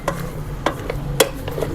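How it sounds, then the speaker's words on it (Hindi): Ojri tripe with onions is stirred in a pot, a few scraping strokes of a spoon against the metal over a soft, steady sizzle. "अभी इसको आपने अच्छी तरह सोड़ना है।"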